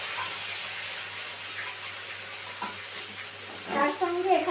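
Ginger paste spitting and sizzling in hot white oil, a steady dense hiss throughout, with a stirring scrape and a brief rise near the end.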